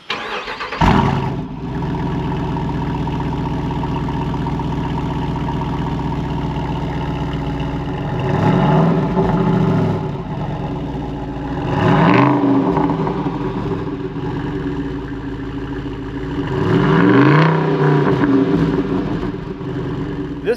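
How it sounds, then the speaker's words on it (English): A 2021 Jeep Wrangler Rubicon 392 V8 idles steadily through its quad-tipped exhaust, then gets blipped in three separate revs that rise and fall, loud and close with no one talking. "You are probably wondering what this bad boy sounds like, and we are going to show you here coming out of the quad-tipped exhaust."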